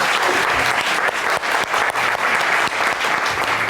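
An audience claps loudly and steadily, a dense, continuous wash of many hands with no voices over it.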